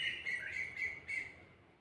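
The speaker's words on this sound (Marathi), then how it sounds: "आज जरा जास्त जोराने चिमण्यांचा आणि त्यांचा आवाज आहे" Sparrows and a koel call near a mango tree in the morning, a steady, fairly close stream of bright chirps and tweets with no talk.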